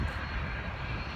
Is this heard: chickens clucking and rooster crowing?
no